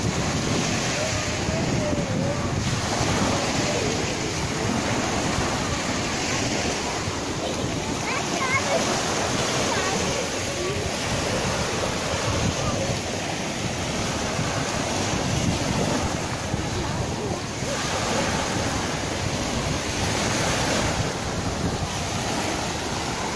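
Steady wind and breaking surf wash over a beach beside a river mouth in Anapa on a cool, cloudy June day, a continuous loud rush filling the whole stretch with swells rising and falling.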